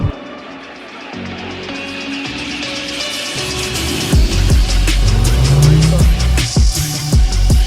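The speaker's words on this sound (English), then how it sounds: "So all our cars on the track, they warm up." Cars warming up on the Nurburgring track roar past in close, loud bursts, engines revving and tires squealing, the noise building and pulsing as vehicles accelerate by.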